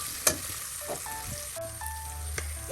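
Red lentils dropped into a hot pan for a vegetarian dish give a steady, moderate sizzle, with a few sharp clinks and scrapes of utensils against the pan and a faint tonal hum behind, with no talking.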